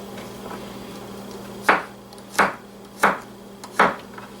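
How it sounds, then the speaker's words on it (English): A knife chops three garlic cloves into thick pieces on a cutting board, four evenly spaced, crisp knocks close by against a faint steady background hum, with no talking. "we'll just chop up some of that garlic"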